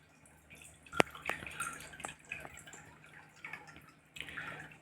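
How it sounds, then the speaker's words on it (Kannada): Milk poured from a glass into a cooking pot of water for sweet pongal, heard as faint, quiet splashes and drips with one sharp splash near the start, no talking. "ಒಂದು ಗ್ಲಾಸ್ ಹಾಲು ಸೇರಿಸೋಣ."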